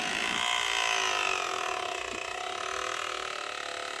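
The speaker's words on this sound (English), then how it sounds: "Yeah, that's not a happy motor." The motor of a flapper paddle boat overheats and strains, giving a steady, loud, close electric whine with layered tones that waver and sag slightly in pitch throughout.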